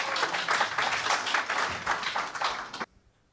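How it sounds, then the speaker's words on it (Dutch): A debate audience at a municipal election evening in Almelo claps in steady, dense applause for about three seconds before it stops abruptly into near silence. "En een applaus voor deze laatste ronde."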